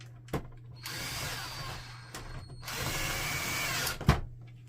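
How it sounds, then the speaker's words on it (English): A power screwdriver drives screws back into the housing of an HP DeskJet 3510 printer in two steady whirring bursts, each about a second long, close by, with short quiet gaps and a small knock at the start and end. "I'm just going to go ahead and put the screws back in."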